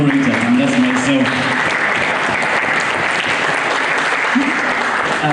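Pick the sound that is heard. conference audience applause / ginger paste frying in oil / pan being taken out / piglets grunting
conference audience applause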